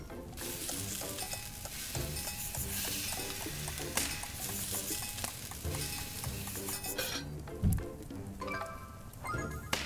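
Bird meat frying and sizzling during cooking in the game Phoenotopia Awakening, a continuous crackling sizzle with stirring scrapes and metallic clinks, steady and close, accompanied by soft background music.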